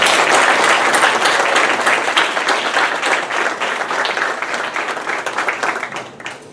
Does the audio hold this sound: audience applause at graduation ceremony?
yes